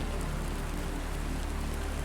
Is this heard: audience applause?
no